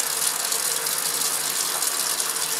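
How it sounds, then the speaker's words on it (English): Vacuum aspirator pump running during a lab filtration, producing a constant loud, harsh mechanical whir with a rapid clicking texture, close and uninterrupted. "Sorry for the noise, I'm using an aspirator."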